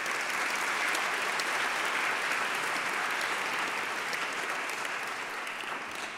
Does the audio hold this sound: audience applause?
yes